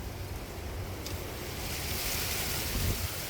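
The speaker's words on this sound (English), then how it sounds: "Very windy, guys, very windy." Strong, steady wind roars and buffets the microphone throughout over a tropical Queensland garden, with broadband rumble and gusts swelling toward the end; no voices.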